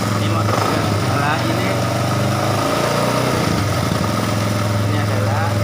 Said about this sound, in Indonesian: Ini motor sudah nyala.